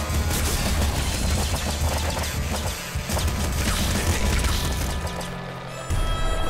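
Laser pistol fire in the video game Nuclear Throne comes as dense, loud bursts of zapping shots over a constant layer of game noise, with brief gaps between volleys.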